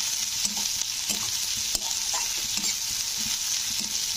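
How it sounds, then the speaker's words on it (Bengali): Onions frying in a pan, cooked to light brown for a lauki-leaf posto dish: a steady close sizzle with soft scraping stirs every half second or so, no talking. "তো এবারে পেঁয়াজগুলোকে হালকা ব্রাউন করে ভেজে নেব"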